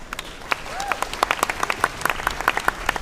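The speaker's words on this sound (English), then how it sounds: "Ladies and gentlemen, give them a round of applause." An audience claps for panelists at the close of a hardware business panel discussion, a short burst of moderately loud applause with distinct individual claps, with a voice heard briefly.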